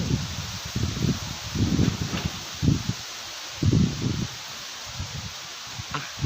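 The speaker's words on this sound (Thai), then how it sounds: "ลมทุ่งแรงมากนะคะ" Strong wind blowing across open fields buffets the microphone in uneven low, rumbling gusts that rise and fall throughout, with no voices.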